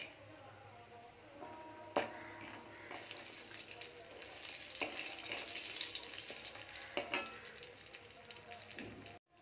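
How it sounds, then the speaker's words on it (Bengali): Bori, small lentil dumplings, fry in hot oil in a pan, giving a steady broad sizzle that swells in the middle, with a few sharp utensil clinks and scrapes along the way and a sudden stop at the end. "এবার আমি বড়িগুলো ভেজে নেব"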